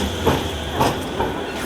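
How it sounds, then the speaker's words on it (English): Trams running through Manchester city centre produce a steady metallic rumble with rhythmic rail clatter and faint squeals, close and fairly loud, with no voices. "There must be 12 trams actually here at the moment."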